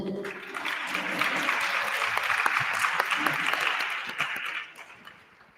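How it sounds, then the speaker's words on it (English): Students at a Grade 11 maths workshop break into sustained applause, a dense even clatter that holds for several seconds before tapering off near the end. "Give yourself a round of applause"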